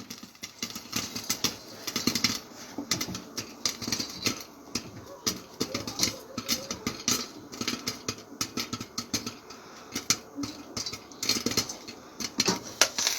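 Corn kernels pop in a pot on the stove, a busy, irregular patter of sharp little bursts and rattles against the metal, continuing steadily throughout at close range with no voices.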